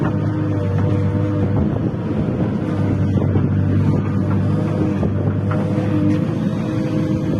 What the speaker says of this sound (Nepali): हिउँ पहिरो अनि हावा उडिरहेको छ